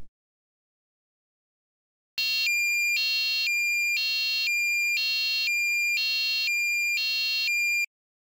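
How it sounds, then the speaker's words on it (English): A buzzer driven by an STM32 microcontroller sounds after two seconds of silence, a loud electronic tone stepping to a new pitch about every half second, steady and continuous for nearly six seconds before cutting off. "You can hear the tone changing every 500 milliseconds"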